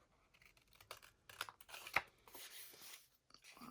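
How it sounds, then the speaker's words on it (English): Scissors snip through paper while crafting a Christmas ephemera coffee mug pocket, giving a few quiet, irregular crisp cuts and rustles, close and otherwise in near-silence. "Now you're supposed to hold your scissors straight and turn your paper."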